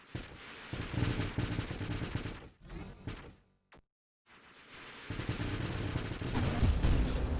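Spaceship weapons firing in the video game Nova Drift, dense rapid bursts of synthetic gunfire and whooshes, loud and continuous, broken by a brief drop to silence before the barrage resumes.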